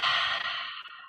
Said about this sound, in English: Take a deep breath in to prepare. And a deep breath out.